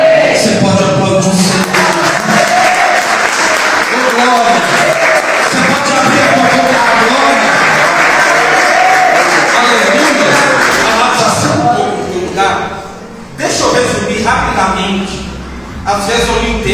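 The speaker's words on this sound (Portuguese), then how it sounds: "Você pode aplaudir o Senhor" A church congregation applauds during an evening service, with sustained loud clapping and crowd noise mixed with voices for most of the stretch, dipping briefly before resuming.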